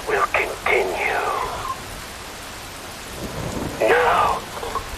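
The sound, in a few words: rain and thunder in Metal Gear Rising video game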